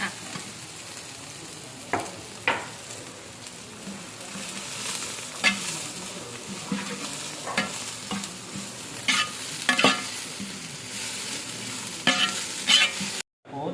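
Onion frying in a pan for Kottayam-style beef chaps, a steady close sizzle with repeated scraping stirs and clinks of a spoon against the pan, no talk.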